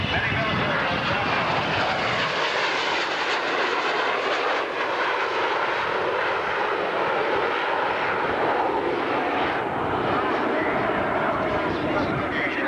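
F-117A stealth jet aircraft at the 1991 Cleveland Air Show, a loud, sustained broadband engine roar that stays steady and close across the whole stretch with no breaks.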